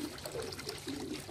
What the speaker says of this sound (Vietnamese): Chúng ta chỉ cần mà vặn cái vòi nước này thôi là nó sẽ tự ra nó được chưa?